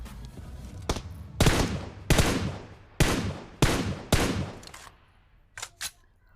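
Gunfire in the mobile shooter game PUBG Mobile: several loud sharp bursts and single shots spaced about half a second to a second apart, followed by two quieter distant shots, with no talking.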